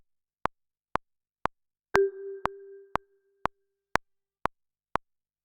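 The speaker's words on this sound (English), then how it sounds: "there's our one little marimba note" A single soft marimba note rings out and fades over about a second, set against a steady ticking click pulse, with no other sound.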